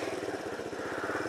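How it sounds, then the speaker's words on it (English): A Superbyke RSR 125 motorcycle running cold with the choke half on, its small engine puttering in a steady, fast, even pulse, close and continuous. "So first I'm going to start the engine."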